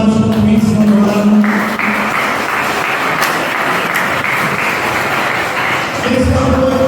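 Ninth-grade students at a school writers' gathering in Olinda break into sustained applause. Dense clapping fills the middle of the stretch, while music with tonal notes plays at the start and returns at the end.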